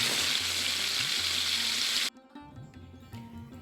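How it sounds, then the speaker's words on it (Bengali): Tilapia pieces rubbed with salt and turmeric fry in hot oil in a frying pan, a loud dense crackling sizzle that cuts off abruptly about halfway, leaving faint clatters and quiet frying. "নুন হলুদ মাখিয়ে রাখা মাছগুলো আমি একটা একটা করে ভেজে নেব"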